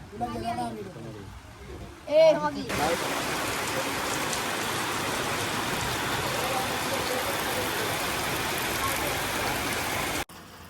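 Steady rain falls in a village, a constant even hiss heard close and moderately loud for most of the clip after a brief stretch of speech at the start.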